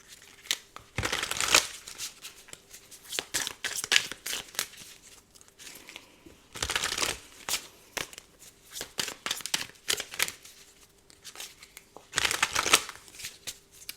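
Tarot cards riffle-shuffled close by in three loud bursts, with quieter handling and card flicks between them and no talking.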